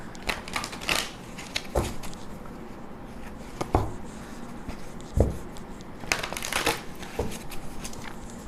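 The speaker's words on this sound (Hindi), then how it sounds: "जब तक मैं शफल कर रही हूँ" Tarot cards are shuffled in bursts of crisp riffling and soft slaps, with several separate flurries and short pauses between them, close to the microphone.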